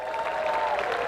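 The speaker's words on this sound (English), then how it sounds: "give them a big round of applause as well" A crowd at the outdoor Lighting of the Green holiday event, with university choirs and musicians, gives a brief, steady round of clapping at moderate loudness, with a held tone running underneath.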